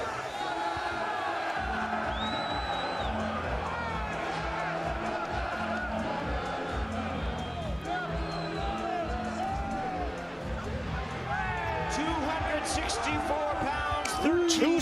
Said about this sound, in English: Overflowing crowd